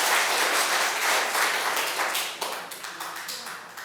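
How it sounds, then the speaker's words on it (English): An audience at a town council mayoral candidates forum applauds: dense, loud clapping that fills the room, then thins into separate claps as it fades. "Now I'm going to have to let them clap for you,"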